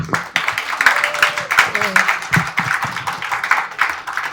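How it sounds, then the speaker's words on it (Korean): Scattered clapping from an audience at the start of a book talk with a former South Korean foreign minister in Seoul, the sharp claps mixed with voices talking over them. "박수 부탁드립니다."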